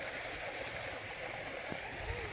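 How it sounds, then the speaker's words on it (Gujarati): Water runs steadily through an irrigation channel in a sesame field, a soft continuous flowing rush at moderate distance, fairly faint, with no clear speech over it. "આ ધોરિયામાં પાણી ચાલુ છે"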